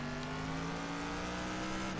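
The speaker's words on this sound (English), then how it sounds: "You could hear the cars on the other side of the track." Race cars in a racing video game, their engines droning steadily at a distance across the track as a continuous hum with no talk.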